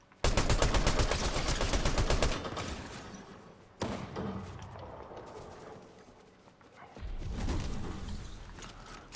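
Gunfire in the video game Fortnite: a loud rapid burst of automatic shots, then a sharp single crack and further scattered firing with mechanical clatter. The shots sit close and forward, with no talk over them.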